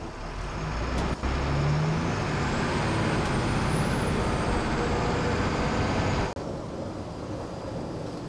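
An LMTV military truck cruises at about 50 miles per hour, giving a loud continuous engine drone and road rumble inside the cab with a brief thump near the end.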